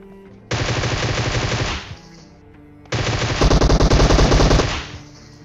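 Loud bursts of automatic gunfire in a battle royale video game, two sustained rapid-fire volleys separated by a brief pause, the second one longer and denser.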